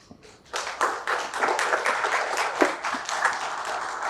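A small crowd at a 1992 school batch reunion gathering breaks into applause, starting suddenly after a quiet moment and continuing as a moderate, somewhat sparse patter of individual claps.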